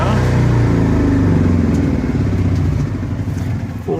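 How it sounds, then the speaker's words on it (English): Small older generator with about 453 hours on it, at a step van mobile studio, running loud and close with a rough engine drone, then winding down as it is shut off, its rumble fading near the end. "We're going to shut that generator off."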